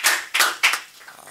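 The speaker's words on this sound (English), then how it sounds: "so give him a nice round of applause." Three short bursts of clapping close to the mic at a talk on freight infrastructure, each quick flurry fading out before the next.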